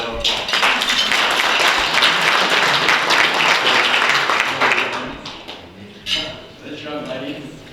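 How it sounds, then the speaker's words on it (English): An audience at a water district directors' meeting held at High Point Church in McKinney gives a round of applause: dense, steady clapping from many hands that tapers off after about five seconds, with faint voices near the end. "let's give everybody a round of applause"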